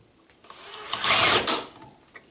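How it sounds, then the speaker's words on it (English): A power drill whirs in a short rising burst while boring with a 1/2 inch bit, peaking loudly for about half a second before stopping abruptly as the bit snaps, with no talking. "So my drill had enough torque to break a 1/2 inch drill bit."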